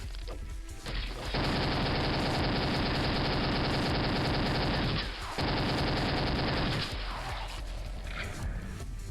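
A grenade launcher fires in a video game, a loud dense barrage of blasts running for several seconds, pausing briefly, then continuing.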